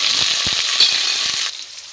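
Garlic and curry leaves fry with chana dal in hot oil, a loud close crackling sizzle with scattered spatters that drops to a softer hiss toward the end, with no voices.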